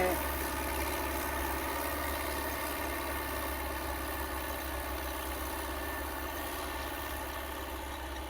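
A New Holland 850 tractor engine running steadily at a low idle-like hum, nearly new with about fifteen hours of use, a constant mechanical drone with faint vibration, fairly quiet and unchanging.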